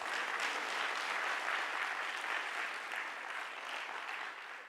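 A lecture audience claps steadily for several seconds, a soft, even wash of applause heard from a distance with no talking over it.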